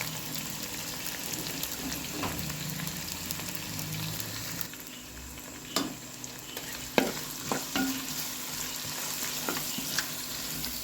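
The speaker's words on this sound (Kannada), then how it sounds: "ಈರುಳ್ಳಿ ಒಳ್ಳೆ ಕೆಂಪಾಗಬೇಕು, ಸಾಧ್ಯದಷ್ಟು ಕೆಂಪಾಗಲಿ." Chopped onions sizzle steadily in a pot as they are browned for a rooster curry, a close, constant frying hiss broken by occasional sharp scrapes and taps of the stirring spoon against the pot.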